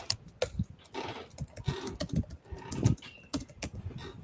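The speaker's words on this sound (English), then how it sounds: "you should learn to type fast" Rapid typing on a computer keyboard, a close flurry of irregular key clicks and taps in quick bursts with brief pauses, no voices.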